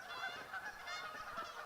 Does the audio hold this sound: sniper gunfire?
no